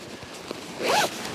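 A zipper on the top vent of a OneTigris Gastropod tipi tent, pulled in one quick rasping stroke after a couple of soft handling clicks, close up and otherwise quiet.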